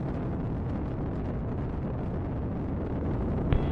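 Ares I-X rocket in flight after passing Mach 1, its solid motor giving a dense, steady roar with a broadband crackling texture and no break, heard at a distance.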